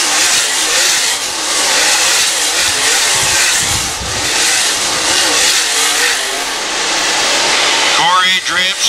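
Race cars roar around the dirt oval at Valley Speedway during a USMTS modified feature, engines loud and continuous as they pass, with an announcer talking over the noise.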